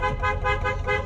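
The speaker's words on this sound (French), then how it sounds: "faut que je klaxonne là" A Rolls-Royce car horn blares in a single continuous honk with a slight pulsing throb, loud and close, with no speech over it.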